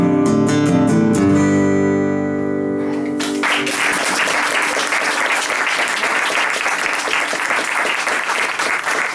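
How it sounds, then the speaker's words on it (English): An audience at a live show bursts into sustained, loud applause after a few sung notes, many hands clapping densely and continuously for several seconds. "Let's have a round of applause"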